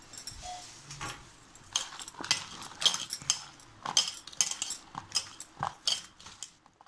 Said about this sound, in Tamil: வெண்டைக்காயை நல்லா போட்டு பிரட்டிக்கோங்க